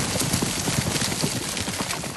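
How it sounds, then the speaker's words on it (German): Stallions gallop fast, their hooves drumming in a quick, dense rhythm that stays close and loud for a couple of seconds. "Die meisten Hengste dürfen nicht zu den Stuten und müssen ihre Aufregung im schnellen Galopp abreagieren"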